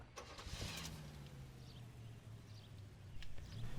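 A car with suicide doors starts up in the LA Noire video game, with an engine hum settling into a low steady idle after a brief starting burst, quiet and close.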